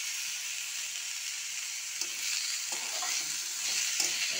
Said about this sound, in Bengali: দিয়ে দিচ্ছি, দিয়ে এটা আমি ভেজে নেব।